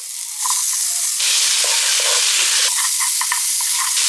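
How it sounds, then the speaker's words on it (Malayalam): Chopped tomatoes frying and being stirred into Malabar chicken biryani masala, a steady close sizzle with soft spoon scrapes and bursts of crackle throughout, no talking. "ഇതിനകത്തേക്ക് ഒരു രണ്ട് തക്കാളി അരിഞ്ഞത് ഇട്ട് കൊടുക്കാം"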